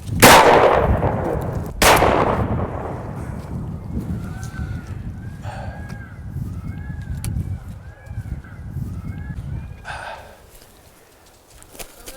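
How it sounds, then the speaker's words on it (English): Two loud, close gunshots about a second and a half apart during a bird hunt, each followed by a fading outdoor ambience with faint rustling and a few light chirps. "that was terrible shooting"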